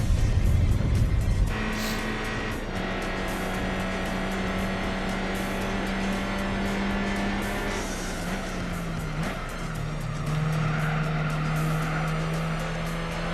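A Renault Alpine race car in Gran Turismo 4 holds a steady engine drone that dips and shifts pitch through gear changes while drifting in a one-make race, with a louder burst at the start. Near and continuous.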